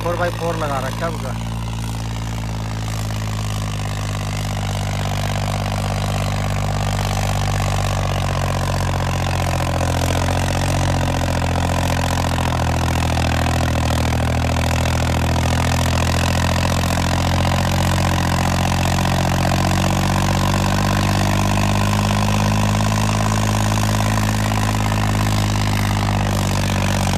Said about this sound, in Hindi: तो भाई ट्रैक्टर की साउंड सुनो